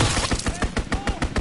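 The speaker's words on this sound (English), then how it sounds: "Enemy strafing run inbound!" Enemy strafing run in the Call of Duty WWII video game, a rapid rhythmic string of about ten heavy gunshot impacts in quick succession, loud and close across a second and a half.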